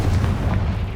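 Confringo fire spell blast in Hogwarts Legacy, one loud, low, rumbling burst that fills the whole second.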